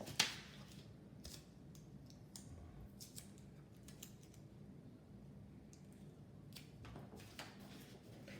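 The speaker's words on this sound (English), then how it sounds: "I'm going to cut a little strip of ribbon." Scissors snip through a little strip of soft ribbon, a series of small, sharp, close-up cuts spaced irregularly over quiet room tone.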